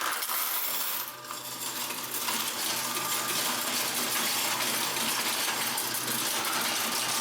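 A self-checkout cash recycler loudly churns and rattles coins for several seconds, a steady clattering whir with metallic jingling throughout.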